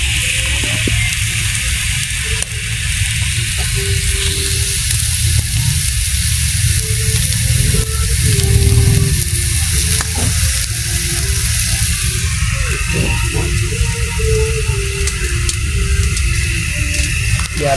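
Fish grilling over heat, sizzling steadily and crackling up close as it is turned, a dense continuous hiss with small pops and scrapes throughout.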